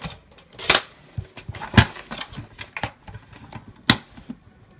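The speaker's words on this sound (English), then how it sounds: "I'm going to cut these out." Paper notes being cut out with scissors for a journal setup, a series of close, crisp snips and rustles at irregular intervals, some sharp cuts standing out.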